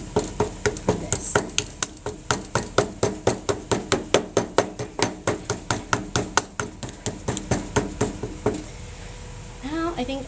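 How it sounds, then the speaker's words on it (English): A tack hammer drives decorative nail heads into the upholstery of a mid-century modern recliner, a long run of sharp, evenly spaced metallic taps, close and steady, ending in a brief pause before some faint handling noise. "This is for hammering decorative nail heads"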